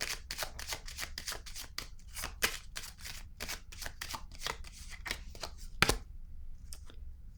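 Tarot cards handled and laid down on a surface, a quick series of crisp close-up card flicks and taps in a fairly regular rhythm, then a sharper snap before quiet.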